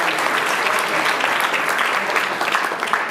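Wedding guests applauding at a reception, steady dense clapping from a crowd, loud and continuous throughout with no break.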